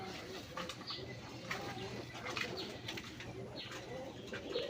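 Native Rasgolla pigeons, a male and female pair, coo in low repeated rolls at a quiet level, with occasional wing flutters and a faint voice in the background.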